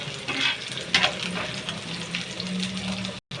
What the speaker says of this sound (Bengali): পেঁয়াজ কাঁচামরিচ ভেজে নিচ্ছি